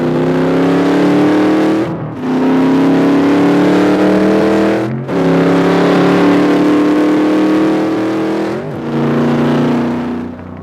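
A modified car with a Hurst shift lever revs its engine loudly and close by, in three long sustained pulls with brief dips between them and no talk over it.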